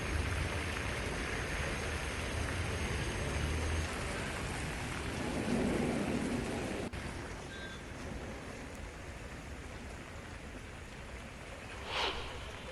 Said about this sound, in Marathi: मुसळधार पावसानं कसं मुंबईला झोडपून काढलंय